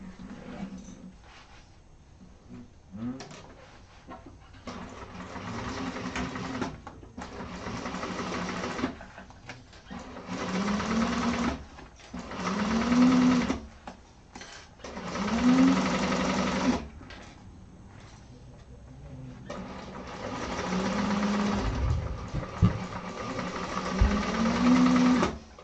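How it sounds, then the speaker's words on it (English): Juki sewing machine stitching satchel lining in a sewing class, running in repeated bursts of a few seconds each with short pauses between, steady motor whir and needle clatter close by, little talk. "Diane, how's that new Juki treating you?"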